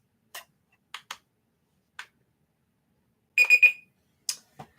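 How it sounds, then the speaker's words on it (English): Timer alarm going off: sparse, sharp ticks and clicks lead into a short, bright ringing chirp, then a few scattered clicks follow in a quiet room. "So I will start this timer so we'll all be in sync."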